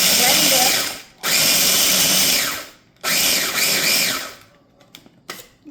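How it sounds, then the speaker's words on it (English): A blender grinds a walnut crust for a savory lemon-and-herb cheesecake, running loud and close in three bursts separated by brief pauses, then ending in short sputtering pulses. "And then we're going to blend this because this is our crust."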